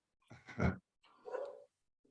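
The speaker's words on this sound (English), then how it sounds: "I've got my dogs barking in the background." Dogs barking at home in the background, two short muffled bursts a moment apart, faint and somewhat distant, with no talk over them.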